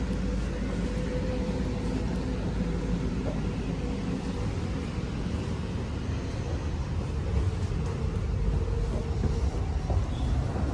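Cabin noise inside an NS ICNG intercity train running at up to 200 km per hour on the Dutch high-speed line over the Hollands Diep: a steady low rumble and hiss with no talking.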